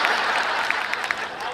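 Audience applause at a Hindi comedy and satire stage show, a steady, close wash of clapping hands for under two seconds with a few sharper claps standing out.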